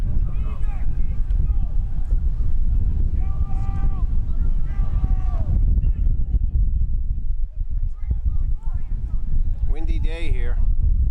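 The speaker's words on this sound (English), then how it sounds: "Windy day here." Wind buffets the microphone at an outdoor high school lacrosse game, a constant low rumbling roar that runs underneath a commentator's voice throughout.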